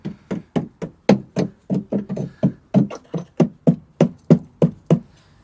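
Metal tool tapping the badly rusted sill of a Ford Transit Connect van being converted to a camper, about twenty sharp knocks in a steady, even rhythm, close and fairly loud, with no voices.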